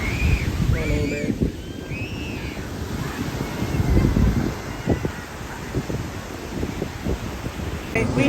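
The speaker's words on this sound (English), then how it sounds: "Starting to get windy, and when it get windy and later, the waves get higher and closer." Wind at a beach, a steady rushing and buffeting across the microphone with surf and waves under it, while a few faint voices are heard briefly in the background.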